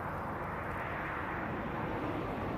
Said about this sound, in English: Big old jet airliner. It's way over my head.